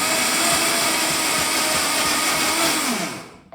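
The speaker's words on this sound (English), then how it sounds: "I don't want to blend it too much" A blender grinding peanuts with oat flour into a coarse powder runs in one continuous loud whirring roar, close by, then winds down and cuts off near the end with no talking.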